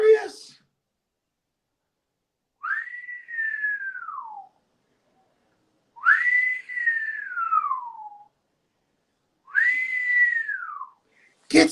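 Whistles ring out in a crowd at the Apollo Theater for Big Daddy Kane, three separate long, clear whistle tones, each rising then sliding down, spaced a few seconds apart with quiet between them.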